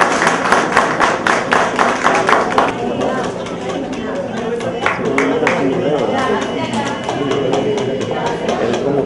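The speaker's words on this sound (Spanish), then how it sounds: "así que un aplauso" Guests at a pastry-course graduation clap in a quick burst of applause that fades into lively crowd chatter and talking nearby.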